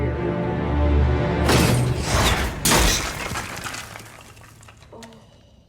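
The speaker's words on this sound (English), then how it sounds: "Oh, it's gonna shatter that skull." A skull shatters in a Game of Thrones scene: two loud, sharp crashing bursts of breaking and splintering, followed by lingering debris and a low rumble that fades out.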